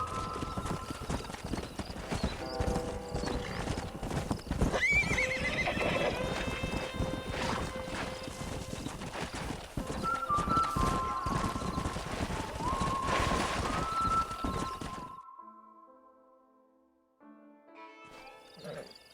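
Horses in the Red Dead Redemption video game clatter with steady hoofbeats and repeated neighs and whinnies for about fifteen seconds, then drop away to near silence with a faint stir at the end.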